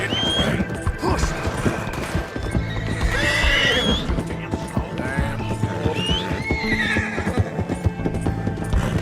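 Horse in Red Dead Redemption 2 galloping with steady clip-clop hoofbeats and loud, repeated whinnies and neighs, close and prominent over a busy game soundscape.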